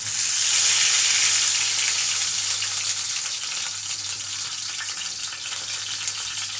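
Flour-coated fish slides into hot oil and sizzles loudly, a bright crackling hiss that swells at first and then settles into a steady, close frying sound.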